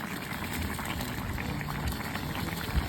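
A pot of paksiw, lapu-lapu fish simmering in a vinegar broth over a wood fire, bubbles and hisses in a dense, steady, close boil, with faint crackle throughout and no talk.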